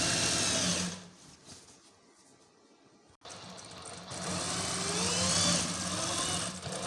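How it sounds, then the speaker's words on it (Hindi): Sewing machine stitching a folded 1-inch jersey strip into a round neckline binding, a steady close whir that drops away briefly mid-way, then resumes at full speed and runs to the end. "ये 1 इंच की पट्टी आपने रखनी है, फोल्ड करके गुलाई में स्टिच कर देना है राउंड।"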